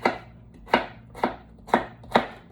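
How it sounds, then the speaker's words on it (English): A knife chops vegetables for a veggie pizza on a board: five sharp, evenly spaced strokes about half a second apart, close and clear, with no talking. "if I get real crazy chopping these veggies"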